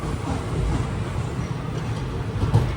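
A Madurai passenger train hauled by a WDP 4D diesel locomotive rumbles steadily, a continuous close roar of rolling carriages without any talk.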